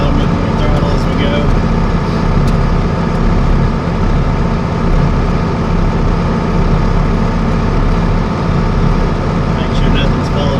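A John Deere 4440 tractor engine runs loud and close, a steady heavy diesel drone with a constant low rumble as the throttle is gradually raised while warming up.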